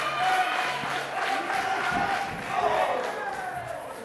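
Wrestling crowd at Walkabout roaring and cheering steadily throughout a Christmas pro wrestling show, a loud continuous wall of voices with shouts rising and falling.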